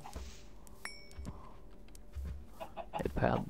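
Minecraft chickens cluck in short, scattered bursts at moderate volume, with a brief ringing chime and other soft game sounds in between.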